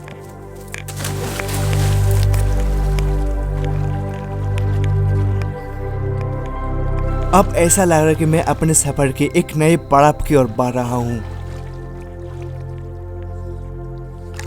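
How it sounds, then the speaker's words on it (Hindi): River water flows outdoors in hot weather, a steady broadband rush running beneath someone speaking throughout. "वो देखिए नदी, बहता हुआ पानी।"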